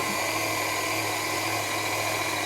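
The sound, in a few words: meat grinder grinding burger meat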